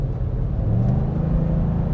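Cabin drone of a 2023 Ford Super Duty V8 truck engine while driving, a loud steady low rumble with a faint hum, continuous throughout with no talk.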